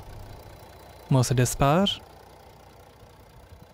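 A 2016 Mercedes-Benz E350 CDI with its 3000cc V6 OM 642 diesel engine idles as a low, steady hum, faint behind a short burst of someone talking.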